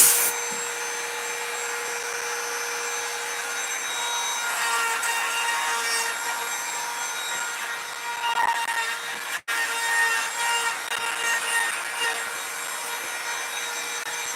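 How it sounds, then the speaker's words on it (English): A power router fitted with a 90-degree bit grinds and whines steadily as it carves below the surface of a wooden board for a stencil, with a brief sharp click partway through and small shifts in pitch as it works. "Dad's just going in with that 90 degree bit and trying to take everything below the surface of the board"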